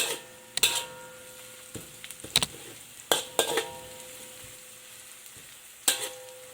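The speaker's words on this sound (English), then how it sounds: "keep stirring until some of the onion turn brown. Add some fenugreek seeds" Onions and a pinch of fenugreek seeds fry in a pan as they are stirred, a low steady sizzle broken by irregular, sharp clinks and scrapes of the spoon against the pan.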